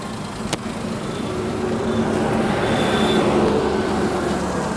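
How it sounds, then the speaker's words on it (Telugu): A Maruti Alto 800 petrol car engine idles with the bonnet open, a steady, smooth hum close by, with a brief click near the start and no talking. "ఒకసారి మనం ఇంజన్ సౌండ్ చెక్ చేద్దాం ఎట్లా వస్తుందని చెప్పేసి"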